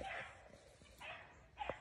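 Beagle pup giving short yipping bays on a solo tracking run outdoors, a few brief calls spaced apart, moderately distant, with faint background noise.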